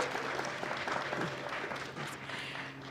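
An audience at a university spring graduation celebration applauds a graduate, steady dense clapping filling the room throughout at an even level.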